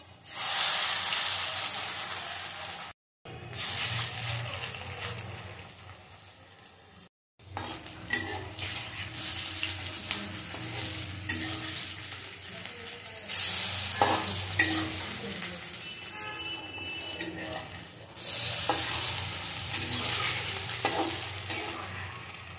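Moringa leaf fritters fry and sizzle steadily in hot oil, a broadband hiss that stays up close and loud throughout, broken by two brief gaps and occasional stirring and utensil clinks against the pan.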